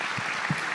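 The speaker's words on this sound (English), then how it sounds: "let's give them a round of applause" Brief burst of audience applause at an evening event at the University of Mississippi, a dense steady patter of clapping with a couple of low thumps, lasting under a second.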